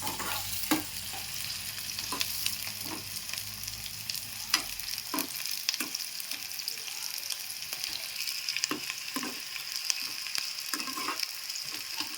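Onions with green chillies sizzle in a pan, a continuous close fry broken by periodic scrapes and knocks of a stirring spoon.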